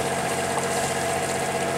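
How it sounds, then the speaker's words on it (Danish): A sailboat's inboard motor runs at a slow, steady pace in open water, giving off a continuous low, humming drone with a faint watery churn underneath. "Så tager vi lige stille og roligt og tuller afsted på motor."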